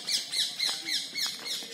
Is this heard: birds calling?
yes